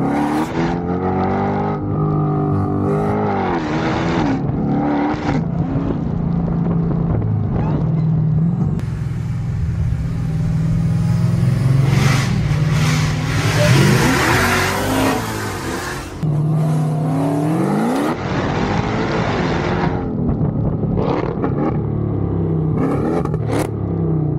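Engine of a Jeep Trackhawk revving hard while driving, a loud continuous roar with rising and falling pitch and a sustained high-revving stretch in the middle.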